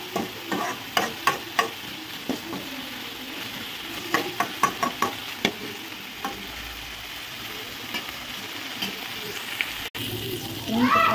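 Garlic frying in a pan on a home stove, a continuous low sizzle broken by bursts of sharp clinks and scrapes as a spoon stirs against the metal.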